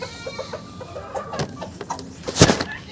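Laying hens on a poultry farm cluck in short repeated bursts at close range, ending with a louder, sharper squawk.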